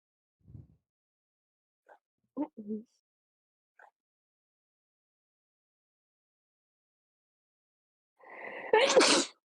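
A single loud sneeze bursts out near the end after a stretch of near silence broken only by a few faint, brief sounds, sharp and close during a livestreamed tabletop role-playing game session.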